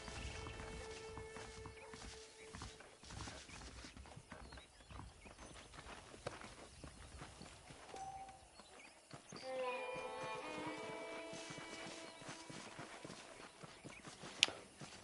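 Horses clip-clopping in a video game, a steady run of soft hoofbeats under ambient game music and scattered effects, moderately distant and quiet.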